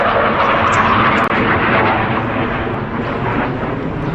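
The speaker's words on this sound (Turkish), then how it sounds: "Devamlı F-16 geçiyor." A loud, deep F-16 fighter jet roar fills the air overhead over Eskişehir, a broad rumbling rush that holds steady throughout with no talking over it.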